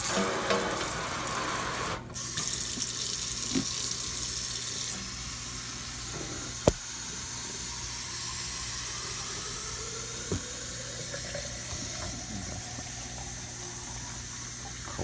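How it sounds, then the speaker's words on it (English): Water runs steadily from a tap, a constant rushing stream with a few faint clicks and knocks along the way. "Get some cold water going."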